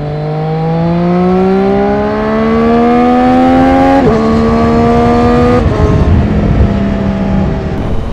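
A 2020 Triumph Street Triple RS motorcycle engine pulls hard on a highway, its loud, close whine climbing steadily in pitch, then dropping sharply at two quick gear shifts before rising again.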